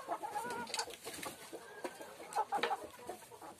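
KUB village chickens cluck in soft, scattered bursts, a few hens calling close together at low volume with no talk.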